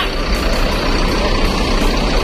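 ANS Luxury class bus, driven by Pak John, pulling in during heavy homecoming traffic, a loud close engine rumble and road noise with a soft repeating beep over it.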